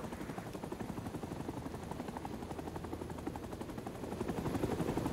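A Huey helicopter in the Vietnam War game Rising Storm 2: Vietnam, its rotor beating steadily and loudly throughout with a low engine rumble, building slightly toward the end.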